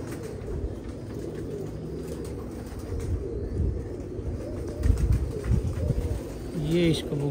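A pigeon coos in low, rolling calls close by, with steady background noise and some rustling throughout.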